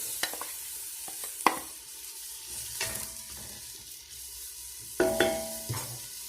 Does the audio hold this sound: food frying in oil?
yes